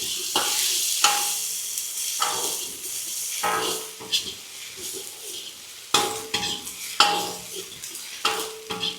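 Goat boti frying in oil in an iron kadai, with steady sizzling under repeated scraping stirs of a utensil against the pan at a loose, irregular rhythm, heard up close.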